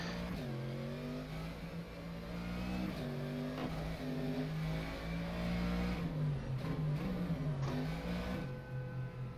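Mercedes GT3 race car engine in the rFactor 2 racing game at Suzuka, a steady harmonic engine drone with shifting pitch, rising and dipping as the car revs and slows, loud and continuous throughout with no talk.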